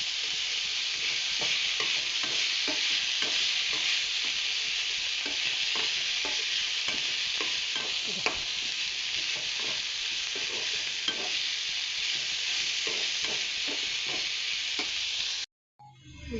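Banana flower palya being stirred with ground masala in a pan, a steady sizzle under a long series of regular spoon scrapes and taps against the pan, cut off abruptly near the end.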